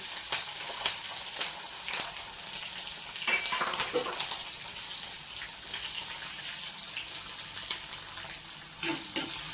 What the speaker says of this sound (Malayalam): പച്ചമുളകും വറുക്കണം